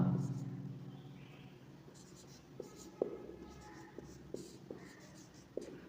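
Chalk or marker writing on a board while concrete ingredients are listed, soft scratchy strokes with small taps in quick bursts, fairly faint against a quiet room.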